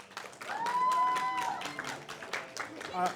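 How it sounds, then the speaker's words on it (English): Applause from a graduation audience rises and fades over about three seconds, moderately loud and somewhat distant, with voices and a whistle-like tone mixed into the clapping. "And another round of applause for Brother Janori"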